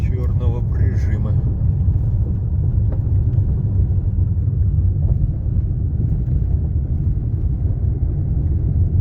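A car climbs uphill on the Kolyma highway past a rock ledge, its engine a steady low rumble with heavy road and wind noise throughout, loud and continuous.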